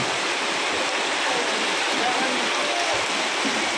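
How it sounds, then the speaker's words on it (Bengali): Heavy monsoon rain pours down outside a shop in North Bengal, a dense, constant roaring wash of water with no breaks, loud and close. "বৃষ্টির স্পিডটা বেড়ে যাচ্ছে।"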